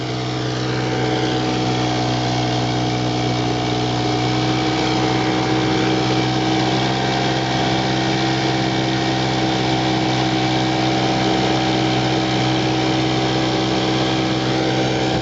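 A 1940 Bendix Eclipse twin outboard motor, 4.5 horsepower, drives a boat upstream at cruising speed, giving a loud, steady, buzzing engine drone that stays even from start to finish with no voices.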